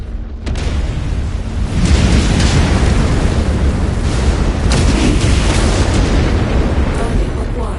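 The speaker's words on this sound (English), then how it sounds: "They narrowly avoided getting caught up in the ammo explosion." A video game ammunition explosion erupts as a loud, sustained blast, a dense roaring rumble that barely fades for several seconds.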